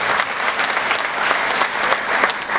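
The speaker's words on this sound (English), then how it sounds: "One more time, big round of applause for all three of these guys." Applause from an audience at an Elvis Week tribute show in Memphis, a steady dense wash of clapping that holds loud and even throughout, with no voices over it.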